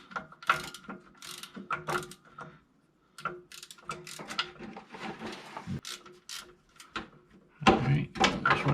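Close, loud ratcheting clicks come in bursts as a socket wrench works the transmission mount bolts on a 1997 Jeep Wrangler TJ, with brief pauses between runs and a little talk mixed in.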